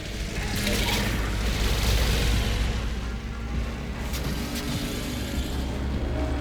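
An overcharged satellite explodes in the Warframe video game, a sustained loud grinding, rumbling roar with mechanical rattling and a few sharp crackling bursts.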